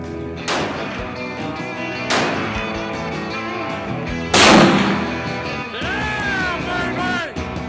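Rifle gunshots fired alone: three loud sharp blasts spaced a couple of seconds apart, each with a long ringing decay, over a continuous musical background.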